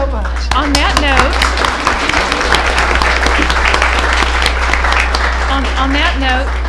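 An audience at a school board meeting applauds science fair students, family members and teachers, giving a sustained round of clapping that runs under a speaking voice throughout, with a low electrical hum beneath.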